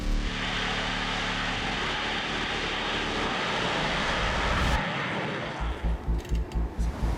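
A Typhoon fighter jet flying alongside a private jet, a loud, steady engine roar that cuts off sharply, followed by a rhythmic series of low thumps.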